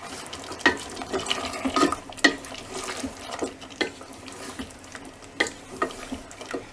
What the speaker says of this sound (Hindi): और इसको मीडियम फ्लेम पर ही हम 5 मिनट तक इस तरह से और भून लेते हैं।